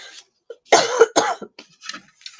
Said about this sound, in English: I am still coughing post-COVID.